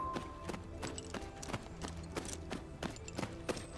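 A horse's hooves clip-clop at an even pace while riding and turning in the video game Tales of Rein Ravine, a quiet, regular series of sharp knocks over a faint steady background.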